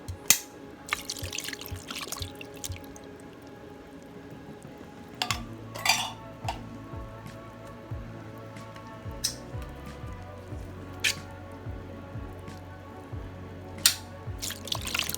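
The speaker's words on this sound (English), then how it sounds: "And I'm going to rinse them off underneath some running water." Canned oysters rinsed under a running kitchen tap give a steady close trickle of water, with scattered clinks and taps of metal and dishes throughout and no talking.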